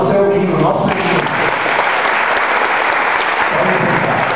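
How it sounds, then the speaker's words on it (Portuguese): A church congregation at a Baptist church in Itapetinga, Bahia, applauds after singing a hymn, a loud, sustained wash of clapping from many hands with a voice heard briefly at the start. "Aplauda o seu hino, nosso hino."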